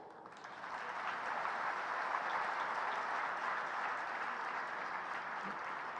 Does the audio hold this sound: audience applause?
yes